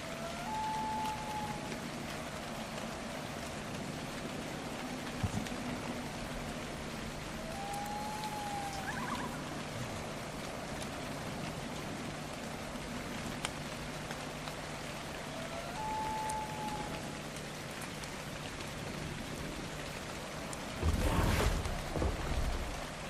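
Rain patters steadily in the video game ARK: Survival, a continuous soft wash of drops joined by a few faint tonal calls and a louder burst of noise near the end, with no one speaking.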